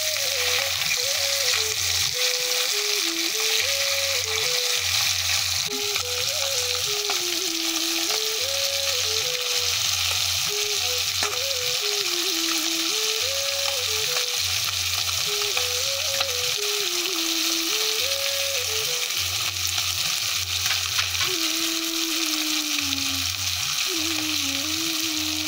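Spices for a Bengali parshe fish jhal sizzle and crackle in hot oil in a steady, loud fry through the whole stretch. A looping melody plays underneath and no one speaks.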